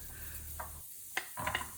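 Carrots dropped into a hot pan and sauteing for a chickpea curry, giving soft stirring scrapes and brief sizzling bursts, close and fairly quiet.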